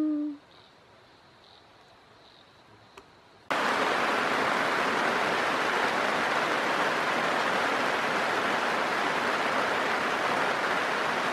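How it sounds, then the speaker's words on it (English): Steady, dense rain at a remote Wonnangatta bush camp in summer, starting suddenly as a loud, unbroken hiss that holds evenly to the end after a few quiet seconds. "Well, the rain's arrived."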